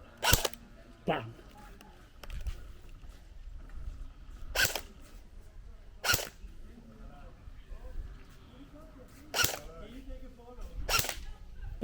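Shots ring out at a shooting range in Thailand as sharp, loud single cracks spaced a second or more apart, about six in all, with quiet background noise and faint talk between them.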